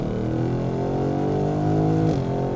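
BMW M850i Gran Coupé G16, tuned to 693 hp, accelerating hard in third gear, its engine note climbing steadily in a loud, continuous rising roar heard from inside the cabin.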